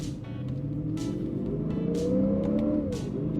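A Lexus IS 500 F Sport Performance V8 with an 8-speed automatic, downshifting into second through the paddle shifters: a sustained engine drone that climbs in pitch as the revs rise, heard from inside the car with no talk.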